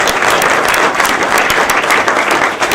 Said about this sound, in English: Let's give him a round of applause for how incredible that was